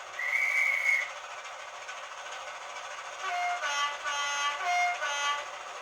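A Heljan Class 33 model locomotive's sound decoder gives a shrill dispatcher's whistle blast followed by short electronic horn tones, played clearly through a small speaker with no talking.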